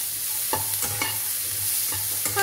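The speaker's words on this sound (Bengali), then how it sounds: "আচ্ছা, এটা আমি হালকা বাদামি হওয়া পর্যন্ত ভেজে নেব।" Spices fry until light brown in a hot pan, with a steady close sizzle broken by soft rhythmic scrapes and clatters of stirring.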